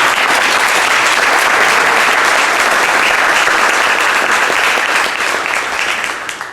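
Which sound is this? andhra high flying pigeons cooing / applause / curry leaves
applause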